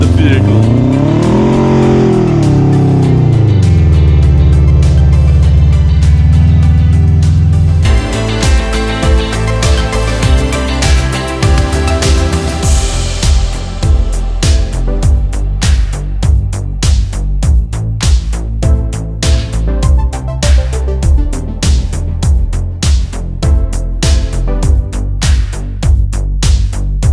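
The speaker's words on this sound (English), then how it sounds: "in this clip, I still had the traction control on, so I just hammered the vehicle" A four-wheel-drive vehicle with traction control on, tyres at 16 psi, is driven hard on a beach access road near Mungo Beach. Its engine revs loudly and climbs in pitch, then settles into a rhythmic pulsing drone with faint background voices.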